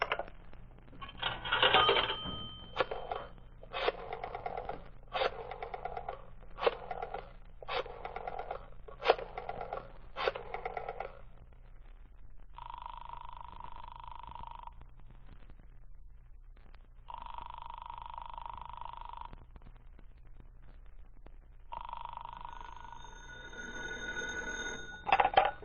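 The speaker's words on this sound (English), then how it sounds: "I'll dial that number and ask for Rittman." Old-time radio drama telephone: a rotary dial clicks through a quick series of pulses, then the line rings in several evenly spaced buzzing bursts, clear and isolated with no voices.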